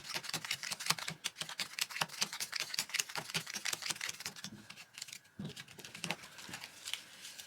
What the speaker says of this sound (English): Shuffle the deck of item cards.